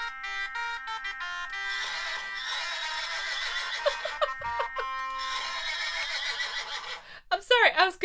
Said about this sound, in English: but I found the horse sounds.